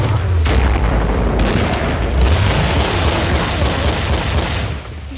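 Rapid, dense gunfire from a weapon in the zombie-shooter video game Killing Floor, loud and continuous bursts filling the whole stretch with no talk over it.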